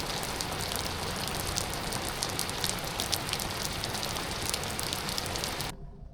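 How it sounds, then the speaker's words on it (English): Steady rain falls outdoors on a sunny day, a dense, even hiss of drops that continues without a break and cuts off abruptly at the very end. "Nothing beats the smell of the beautiful rain coming down."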